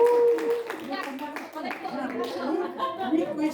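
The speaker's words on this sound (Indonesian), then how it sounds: "Tepuk tangan buat kita bersama." Group clapping at a school training session, scattered claps running beneath voices and a little laughter, moderate in level and mixed with talk across the whole stretch.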